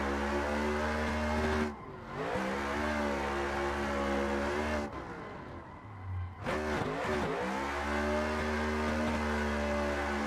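A simulated drift car in a racing game screams at high revs with tires squealing as it slides sideways, the engine note dropping twice on lift-off and climbing again, loud and close without talk.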